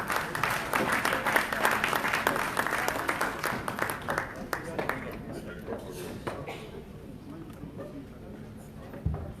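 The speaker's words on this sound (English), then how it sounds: "Give them a round of applause, please." Applause from a conference audience at a diaspora plenary session, loud and dense at first, then thinning into scattered claps as a voice talks over it.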